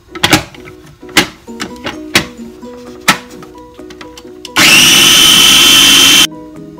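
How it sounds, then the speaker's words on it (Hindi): A mixer grinder whirs loudly for under two seconds, grinding ingredients for hara bhara poha, after a series of sharp knocks and clicks, close by. "तो आइए सबसे पहले हम इसको ग्राइंड करते हैं मिक्सर में"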